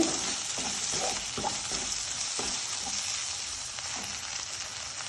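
Ginger-garlic paste fries in a pan over lowered gas flame, a close, steady sizzle broken by several stirring scrapes and crackles as it cooks, with no talking.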